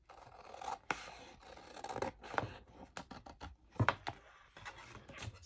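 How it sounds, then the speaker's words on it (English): Scissors snip at an angle through the pocket flaps of a paper file folder, giving a close series of crisp cuts and rasping paper slices with short pauses between strokes and no talking. "just cut the side a little bit at an angle"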